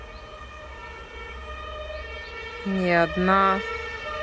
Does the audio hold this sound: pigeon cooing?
no